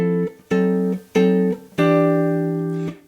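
Four sustained guitar chords, diminished passing chords, rung out one after another, each letting ring before the next, with the last chord held longest.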